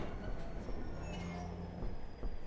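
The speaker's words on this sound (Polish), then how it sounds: "mamy jeszcze te pociągi stare" Old trains in Half-Life 2 rumble past with rattling wheels and faint metallic squeals, a continuous rolling rail noise heard at moderate distance, no voices.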